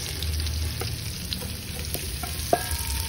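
Onions fry in a pan with a continuous close sizzle and a few crackles, plus a sharp clink of a utensil near the end.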